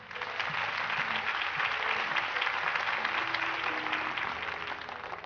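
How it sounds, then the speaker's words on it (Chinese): An audience at a carving competition awards ceremony claps in steady, dense applause that fills the whole stretch, loud and close, with no speech over it. "好的，感谢各位的掌声。"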